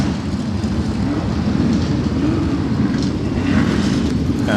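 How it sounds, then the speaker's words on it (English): Unlimited pre-1966 sports prototype race cars with V8 engines roar together in a dense, continuous wall of engine noise heard from a commentary box above the track at the 2014 Goodwood Revival historic motor racing meeting. "cacophony of V8 engines down below."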